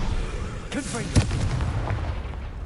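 A Confringo blasting spell explodes in a video game: a voice calls out, then a sharp booming blast follows with a brief rumbling tail over steady background ambience.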